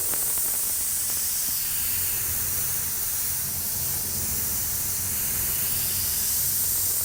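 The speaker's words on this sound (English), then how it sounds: "with a medium airbrush right out of the bottle, no reducer whatsoever" Medium airbrush spraying opaque white paint straight from the bottle with no reducer, a steady close hiss of air that holds evenly for several seconds without pauses or voices.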